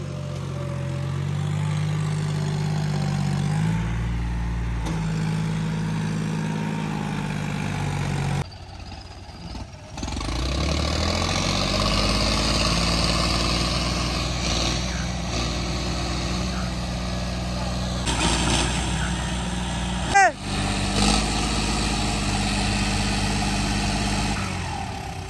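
A tractor engine runs steadily in a waterlogged field, its low, loud mechanical drone holding close throughout with a brief dip and a few shifts in pitch as the load changes.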